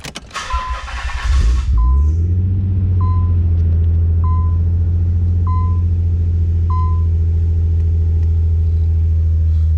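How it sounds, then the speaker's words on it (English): A 1993 Nissan 300ZX with Stillen headers and a Billy Boat exhaust cold-starts, cranking and roaring to life, then settles into a deep, loud, throaty idle with a rumbling exhaust, while a soft chime beeps steadily in the background. "This car's got great sound with the Stillen headers with the Billy Boat exhaust on there."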